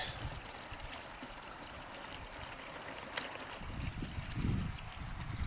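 A mountain creek at a trail crossing on Mt San Gorgonio, running as a steady rushing flow with a windy rumble swelling near the end, no talking.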